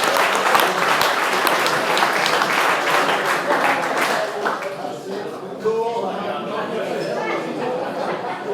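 A round of applause from the crowd at a rugby league club's sponsors night, dense clapping filling a room, thinning into scattered claps and chatter toward the end.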